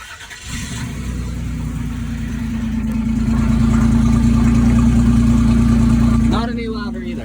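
Car engine running through an 8ft exhaust pipe, a loud, steady low droning rumble held throughout, rising slightly toward the end before easing off.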